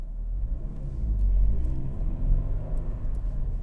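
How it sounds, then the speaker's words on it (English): Manual transmission car pulls away from a stop in first gear, its engine a low, close rumble that swells as it accelerates, then eases slightly. "If you want to take off faster, you're going to have to give it more gas."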